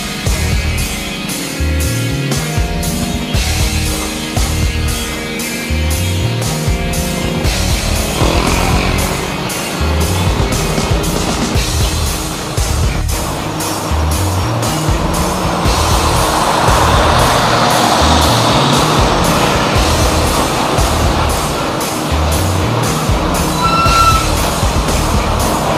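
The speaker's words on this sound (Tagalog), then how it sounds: "At napuno na yung ating truck, paalis na yan." A loaded truck pulls away from a muddy road construction site, its engine droning and rising in rhythmic revving pulses before settling into a steady rumbling roar, close and loud.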